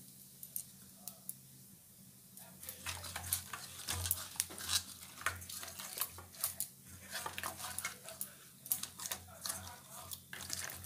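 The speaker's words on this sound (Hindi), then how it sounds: "अभी मैं फिश हेड में नमक हल्दी मिला लेती हूँ।" A fish head gets mixed by hand with salt and turmeric, making soft, wet squelching and light clicking against a bowl. The sounds come in irregular close-up bursts over a faint steady background hum.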